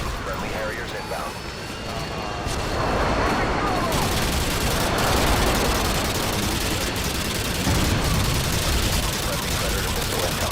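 In an Xbox shooter game, a Harrier airstrike fires rolling bursts of gunfire and explosions that swell into a dense, loud roar and keep going throughout, with game voices calling out over the noise.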